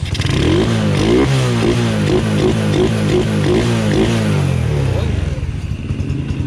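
Rusi MP 100 (Racal 100) motorcycle with a 54 mm rebore piston kit and big valve idles close up, a loud steady four-stroke chug with a rapid pulse, rising briefly before dropping back.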